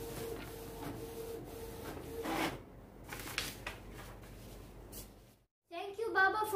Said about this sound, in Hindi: हसन ने पाकिस्तानी फ्लैग प्रिंट किया है